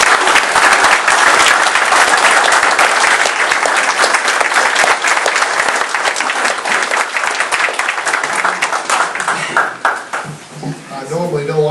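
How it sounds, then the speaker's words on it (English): A town hall crowd applauds a congressman in a dense, loud, sustained wash of clapping that tapers off near the end as a voice begins to speak. "So join me a round of applause for our Congressman"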